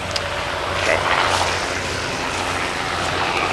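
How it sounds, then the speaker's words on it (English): A helicopter cruises overhead at a festival campsite, its steady engine and rotor drone carrying at moderate distance under a constant wash of background noise. "This helicopter cruises around a lot."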